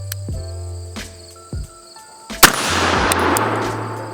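Several sharp impacts ring out at a shooting session for beginners, with one loud gunshot-like crack standing out above a few fainter knocks. A steady hiss and a low hum continue afterward, and no one speaks.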